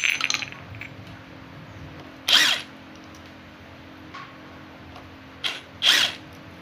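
Screws being undone from the head with a tool, heard as brief bright ratcheting or whirring bursts at intervals against a quiet background hum.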